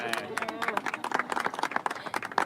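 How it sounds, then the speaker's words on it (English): An audience at the HSR Daytona Classic 24 Hour endurance race applauds a driver with brisk, dense clapping from a crowd of moderate size, close and continuous over a couple of seconds, with some voices mixed in. "Big round of applause, please,"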